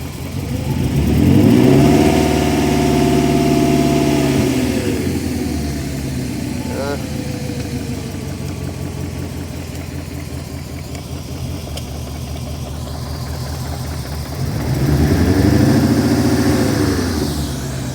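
A misfiring V8 engine in a BMW E34 540i revs up loudly at close range, settles back to a rumbling idle, then revs again near the end.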